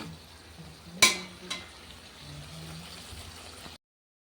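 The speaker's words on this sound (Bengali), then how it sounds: "পেঁয়াজটাও ভালো করে ভাজা হয়ে গেছে" Onions frying in a pan for a poppy-seed and mustard dish, a steady soft sizzle with two sharp clinks of a utensil near the start, then a low hiss before it cuts to silence.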